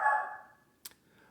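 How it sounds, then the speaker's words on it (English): Indoor dog barking near open windows: one drawn-out bark or howl fades over half a second, then a short sharp yip follows, at moderate loudness with no talking. "I don't know why he's barking."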